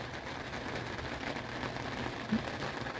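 Light rain falling on an RV awning at Fool Hollow Lake, a steady soft patter of drops that stays even throughout, with one slightly louder tap near the end and no voices.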